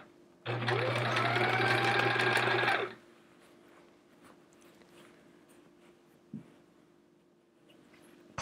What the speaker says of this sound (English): I'm actually going to sew these together like a tube now.